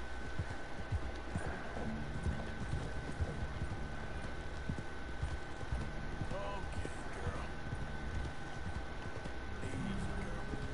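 Horse hooves clip-clop steadily in Red Dead Redemption, a quiet, continuous trotting rhythm heard under a constant hum of game background sound.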